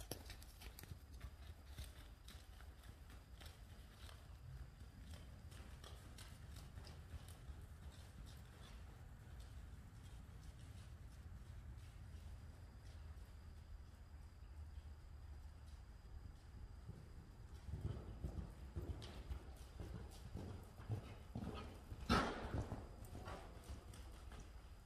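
A horse lopes toward a barrel in an arena, hooves clip-clopping in a steady rhythmic beat that is fairly faint at first and builds closer toward the end, with a brief louder thump.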